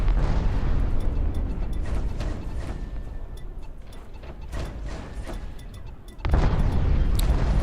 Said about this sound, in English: Torpedoes landed. Massive damage.